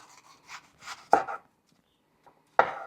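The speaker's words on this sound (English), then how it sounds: "If you guys gotta cut onion like this, it's slippery." A knife cuts thin slices through a slippery onion for cheeseburgers, giving a few soft crunchy strokes, two of them sharper and louder, with quiet pauses in between.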